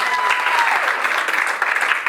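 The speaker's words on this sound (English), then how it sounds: "Round of applause for Jade." Short round of clapping from a small group of guests at a wedding, close and lively, tapering off over about two seconds with no speech on top.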